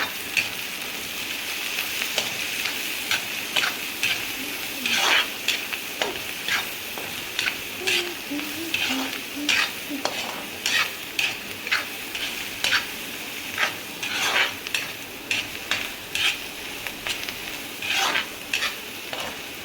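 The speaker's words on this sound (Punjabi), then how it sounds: "ਹੁਣ ਆਪਾਂ ਇਹਨਾਂ ਨੂੰ ਹਿਲਾ ਦਿੰਦੇ ਚੰਗੀ ਤਰ੍ਹਾਂ" Bitter gourd (karela) with red chili and spices being stirred and fried in a pan, a steady sizzle broken by repeated sharp scrapes and clinks of a spoon against the metal, close and unbroken, with no voices.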